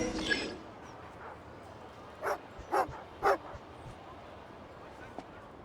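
Three short, spaced dog barks from a video game dog, fairly clear over a soft ambient background, arriving about half a second apart.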